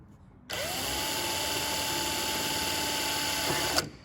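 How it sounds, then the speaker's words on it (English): A high-pitched power drill whines steadily for about three seconds at close range while drilling through aluminum skin on a vertical stabilizer, then spins down and stops. "drill through the hole."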